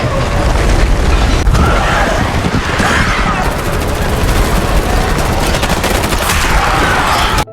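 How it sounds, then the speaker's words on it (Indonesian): Rapid bursts of gunfire as Joel shoots clickers in The Last of Us, dense and loud throughout with booming impacts and clattering mechanisms layered over a chaotic game soundtrack. "Joel menembak clickers yang mendekati Ellie."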